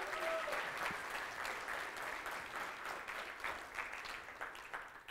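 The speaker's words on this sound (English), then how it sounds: "so I want to give them a big round of applause." Audience at a live Tribe Of Buyers business event breaks into sustained applause, many hands clapping in a steady wash that holds fairly even and tapers slightly toward the end, heard from within the room at moderate level.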